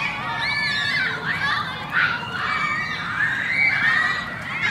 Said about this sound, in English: Kids playing.